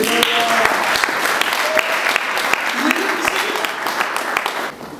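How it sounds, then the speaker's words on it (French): A church congregation applauding to acclaim the Lord during a French-language sermon, loud dense clapping with sharp individual claps standing out, voices and shouts mixed in throughout and fading near the end. "Est-ce qu'on peut acclamer le Seigneur?"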